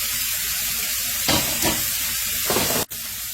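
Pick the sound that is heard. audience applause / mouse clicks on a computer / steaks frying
steaks frying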